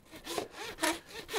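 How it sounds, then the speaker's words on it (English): A handsaw cuts down through pig vertebrae and rib bones during a full butchering breakdown, giving three loud rasping strokes in a steady back-and-forth rhythm, close by with no talk. "Simply take your handsaw, position it where you stopped with your knife"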